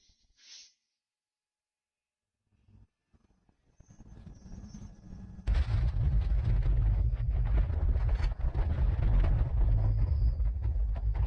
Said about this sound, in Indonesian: Gunung ini benar-benar meledak.